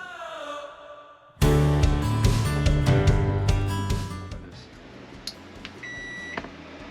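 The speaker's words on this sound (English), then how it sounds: "That's your microwave going on," A microwave oven powered through an RV inverter starts up with a sudden loud hum and rattle, runs steadily, then gives a few short electronic beeps near the end.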